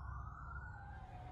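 Police car siren wailing outside a cafe, a faint steady tone sliding slowly downward, distant and alone.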